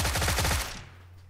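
Rapid automatic gunfire from a player's new favorite gun in a video game, a loud burst of closely spaced shots lasting about half a second, then a brief ringing tail and a low hum.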